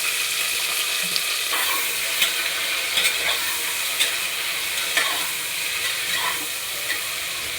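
Brinjal and green peas frying in a hot pan for vangi bath, a steady close sizzle and crackle with occasional stirring scrapes, no voices.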